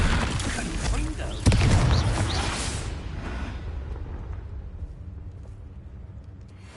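A Confringo spell explosion in Hogwarts Legacy lands as a sudden booming blast that fades away over several seconds, with a voice speaking during it.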